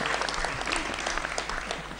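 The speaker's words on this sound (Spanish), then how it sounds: "Carlitos, aplaudan." A crowd applauds steadily at a public ceremony where Alicia Kirchner hands new registrations to cooperatives, with dense, continuous clapping throughout.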